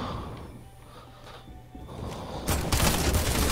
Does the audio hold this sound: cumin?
no